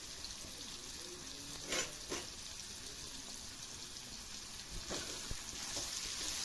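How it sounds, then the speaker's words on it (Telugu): Green chillies and cumin fry in a pan for a fresh coconut chutney, giving a soft, steady sizzle with faint crackles throughout. "కట్ చేసి పెట్టుకున్న పచ్చిమిర్చి పీసెస్, జీలకర్ర యాడ్ చేసేస్తున్నాం."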